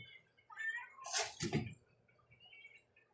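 Rescued cats squabble over their dinner with a short, faint burst of hissing and yowling in the middle, surrounded by quiet.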